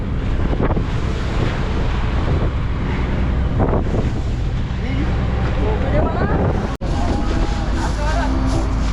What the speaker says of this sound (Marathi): मित्रांनो वारा पण आहे खूप